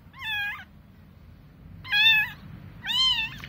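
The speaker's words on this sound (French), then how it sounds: "En fait, c'est des chats sauvages, complètement sauvages." Wild kittens give three sharp, wavering meows, one alone and then two close together, heard near and clear over a low background hum.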